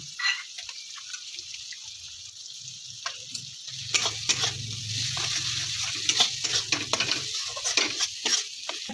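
Poppy seed paste cooking in hot oil with red chilli powder, a steady frying sizzle broken by repeated spoon stirs and scrapes against the pan, close and moderately loud with no talking.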